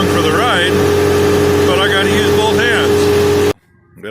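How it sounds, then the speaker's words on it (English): A skid steer engine runs in a steady, loud drone close by while a voice talks over it, then cuts off abruptly near the end. "You always move stuff with the skid steer."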